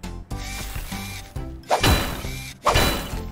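Two heavy metallic whacks of a hammer on a frozen hubcap land about a second apart, each a sharp, ringing impact close by, with quieter clanking and handling noise before them, in a cartoon.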